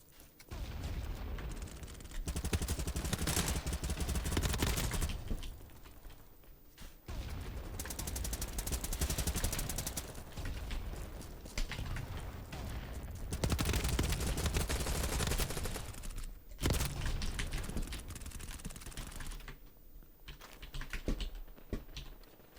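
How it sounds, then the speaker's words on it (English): An ACR rifle in BattleBit fires long, sustained automatic bursts with the trigger held down, a dense and loud rattle broken by a few short pauses between strings of fire. "This clip shows me using the 35 rounds uptime well, just holding down the trigger and shooting in the expected direction of enemies"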